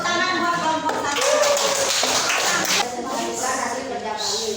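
Classroom group applauding at a school presentation, a burst of many hands clapping close by for several seconds, with voices talking over it.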